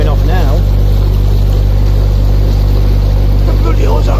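A narrowboat engine on a canal drones loud and steady at high revs, a constant low rumble with a voice faintly talking over it.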